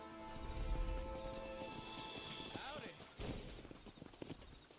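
Hooves of a horse in the Red Dead Redemption video game clip-clop in a steady rhythm near a corral, close and moderately loud, alongside a brief whinny and someone talking over the game sounds.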